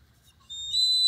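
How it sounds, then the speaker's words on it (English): A whistle blown during a hands-on maker session, starting softly and then rising into a loud, sustained shrill tone that holds to the end, with no talking over it. "Where's that whistle at?"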